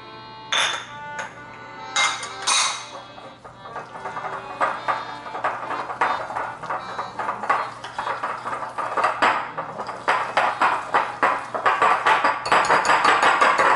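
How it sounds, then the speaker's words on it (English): A whisk clinks rapidly against the inside of a mug while mixing chocolate chip muffin batter, a steady run of quick metallic taps that grows busier and denser toward the end, close and fairly loud with no talking. "nice little whisk there until it's all nicely mixed together"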